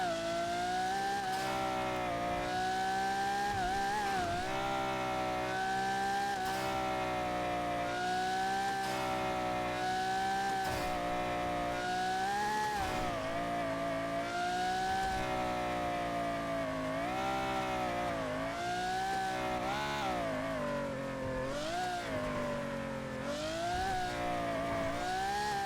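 A loud, screaming car engine in the racing video game MSRP, revving steadily at high pitch with rising and falling gear changes, continuous and close for the whole stretch with no talk.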